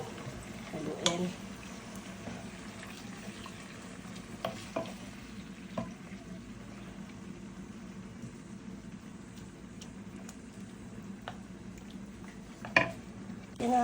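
Chicken biryani with curry and a little water being stirred in a pot, with soft steady scraping and a low simmering sizzle throughout, a few sharper clinks of the utensil against the pot.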